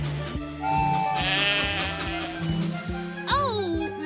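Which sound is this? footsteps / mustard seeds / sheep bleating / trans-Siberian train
sheep bleating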